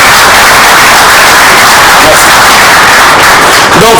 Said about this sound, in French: Donc je tiens à ce qu'on félicite, à ce qu'on applaudit très fort pour Maître Eric Indabo